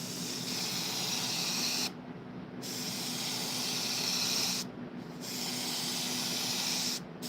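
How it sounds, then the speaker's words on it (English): Airbrush spraying paint for clouds gives a steady, close hiss that stops briefly three times as the trigger is released, then resumes at even strength. "Pulling away with the airbrush so I don't go total, you know, I want it dark at the top."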